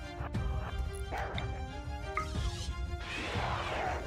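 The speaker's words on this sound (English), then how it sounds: "I'm glad I heard the barking." A dog in the RimWorld colony-building video game barks and yips several times in quick succession, clear and up front, mixed with whimpering and other game sounds.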